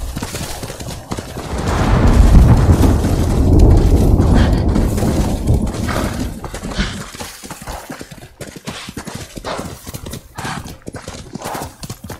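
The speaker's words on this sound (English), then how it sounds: "Where's my horse?" Horse hooves clip-clop at a gallop with neighing in the Ghost of Tsushima video game, loud and close for the first half, then fading into softer hoof steps and scattered thumps.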